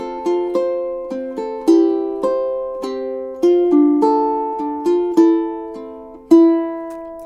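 Ukulele playing measures 3 to 7 of a song from Spirited Away: a quicker run of strummed and picked chords in an uneven rhythm, close and bright, with no voices.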